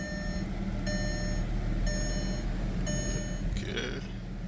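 Reverse gear warning beeps from a 2006 Mercedes-Benz ML350 with a replaced transmission, a steady series of evenly spaced electronic beeps, roughly one per second, over a constant engine idle hum.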